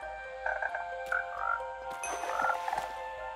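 Minecraft frogs croaking, several short bubbly croaks in scattered bursts over a quiet background, with no voices.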